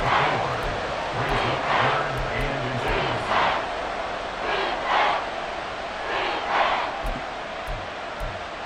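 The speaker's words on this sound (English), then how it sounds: "this crowd trying to force a false start here" A stadium crowd in Madden NFL 24 roars loudly and continuously, with swelling cheers and chanting surges rising and falling throughout.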